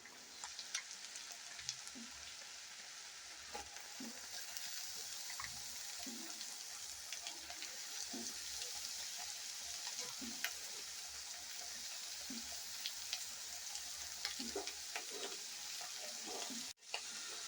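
Chopped onion and cabbage sautéing for egg noodles, a faint continuous sizzle with regular spatula scrapes and stirring taps throughout, ending with a short clatter.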